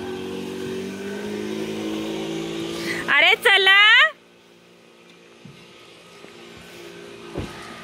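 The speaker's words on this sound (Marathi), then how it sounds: "पप्पांची रिक्षा निघाली." An auto rickshaw engine hums steadily nearby, then a short tonal horn-like burst sounds as it pulls off and the engine noise drops away sharply, leaving quiet background with a brief spoken exclamation.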